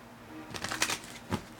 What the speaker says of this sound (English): I think I'm just about done shuffling.